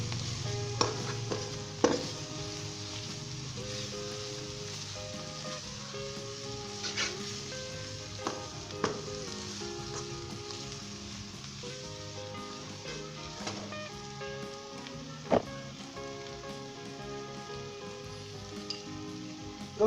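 Chickpea curry (chholay) with fried onions being stirred in a pot, a soft continuous sizzle with scraping spoon strokes and occasional sharp knocks against the pan, steady and fairly close with no talking.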